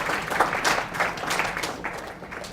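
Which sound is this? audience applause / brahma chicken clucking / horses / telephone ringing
audience applause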